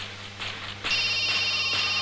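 A telephone rings in a Hindi action film scene as a call is placed, a steady electronic ring tone starting partway through and holding loud and continuous over a low background hum, with no talk.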